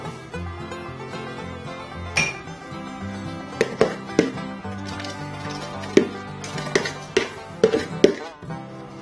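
Mashed pineapple goes into a pot of brown sugar water, bringing scattered clinks and knocks of a utensil against the pot, with sharp taps spaced irregularly over a low background hum.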